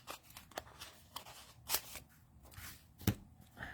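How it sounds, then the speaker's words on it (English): Scissors snipping a small piece from glimmer paper, a few faint, quiet crisp snips and light paper rustles spread over a few seconds. "Let's just cut a little piece off of it."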